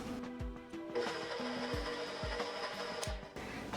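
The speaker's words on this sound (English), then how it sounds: "I've added flour to my stand mixer bowl. Now I'll add salt and give it a little stir." A stand mixer turns flour and salt for pita dough, its motor whirring at an even pitch while the beater knocks the bowl in regular dull thumps, close and alone.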